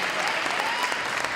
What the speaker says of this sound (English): receiving some final rounds of applause here at RA Faginal Hall